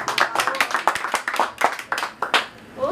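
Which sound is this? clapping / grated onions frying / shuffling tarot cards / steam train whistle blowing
clapping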